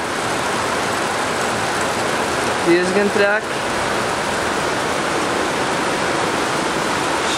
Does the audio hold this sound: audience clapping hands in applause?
no